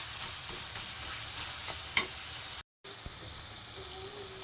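Chicken curry cooking in oil at medium heat gives a continuous soft sizzle with a couple of light utensil scrapes, close by, briefly cut to silence partway through, with no talking.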